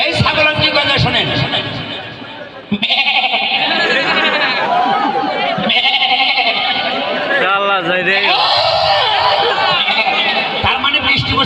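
Goats bleat in wavering, drawn-out cries, loud and close, with voices chattering around them throughout.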